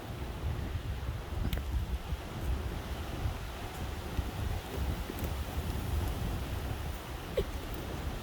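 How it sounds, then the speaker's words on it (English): Strong Hurricane Helene wind in Pasco County buffeting near the river, a steady low roar with rustling and gusty rumble against the microphone, no talk. "The wind's still picking up."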